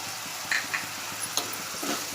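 Tiger prawns with chopped onions and tomatoes frying in oil, a steady close sizzle with a few soft stirring knocks scattered through the short stretch, no voices.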